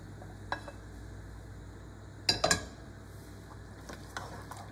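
Quiet stirring of roux into chicken blanquette in a pot, a few soft scrapes and clinks of a utensil against the pot, with a brief cluster of louder knocks midway over a low background hum.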